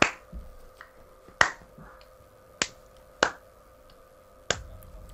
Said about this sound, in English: Trying to clap onto a song.